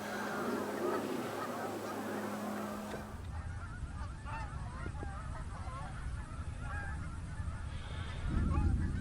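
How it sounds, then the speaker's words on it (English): Many geese honk repeatedly at a distance in winter in Wilderness Park, overlapping calls over a steady rumble of wind or traffic. "In the skies everywhere, there's geese."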